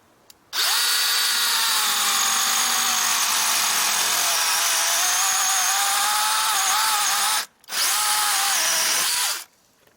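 A Natiddy handheld chainsaw cuts through trees, running loud and steady at close range for about seven seconds, pausing briefly, then buzzing again before stopping.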